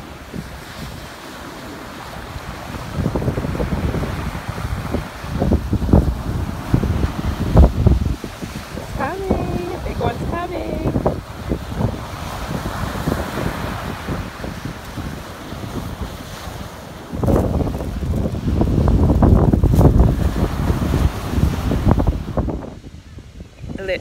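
Strong wind gusting across a beach in Lanzarote, a constant roaring rush over the microphone with surf mixed in, building and easing through the clip.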